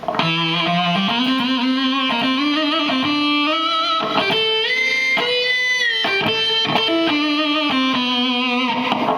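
A continuous, gritty guitar line through an octave pedal with the dry signal removed, notes sliding and shifting pitch in a steady flowing melody with no talking.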